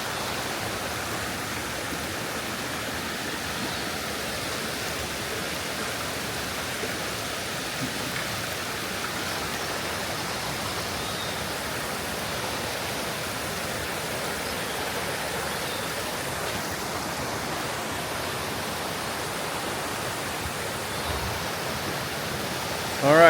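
Steady broadband rush of falling water at a waterfall about an hour from a casita, a constant roar throughout with no pauses, slightly louder at the very end.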